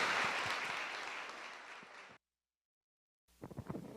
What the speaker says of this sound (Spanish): un gran aplauso para todas ellas